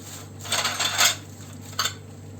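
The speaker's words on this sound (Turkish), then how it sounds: "Şimdi kapaklarımı şöyle bir sıcak suya batıracağım." Metal jar lids clink and rattle against each other in hot water with vinegar, a few quick bursts, a sharp jangle followed by a brief second clatter.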